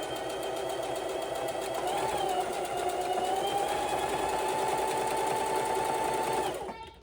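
A sewing machine stitches straps and bodice fabric in one loud, continuous run with a steady mechanical whir and a slight change in pitch partway through, then winds down and stops at the end.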